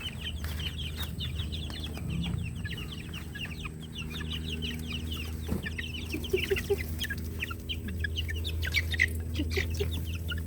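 Young chicks cluck and squabble as they crowd over fruit, a busy run of chirps and clucks on a farm with a steady low hum behind, continuous and fairly close throughout.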